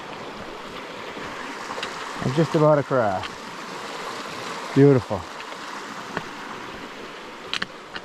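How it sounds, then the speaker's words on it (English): A mountain river rushes steadily in the White Mountains of New Hampshire, a broad constant wash of water, while a hiker speaks briefly and another short voice cuts in. "Nice river."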